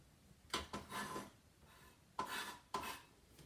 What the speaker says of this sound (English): next we cut the onion